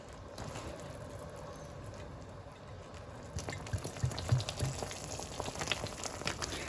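Champagne hisses and bubbles in a pan as the alcohol cooks off, a steady fizzing sizzle that swells louder and more crackly partway through.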